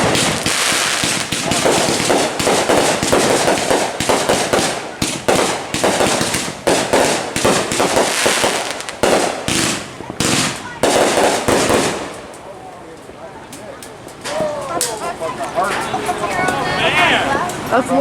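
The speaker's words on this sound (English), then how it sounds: "That's one of our mortar racks" Fireworks fire from a mortar rack in rapid, loud bursts, sharp crackling shots piling up for about twelve seconds, then a short lull before more distant crackles, with people talking and cheering over it.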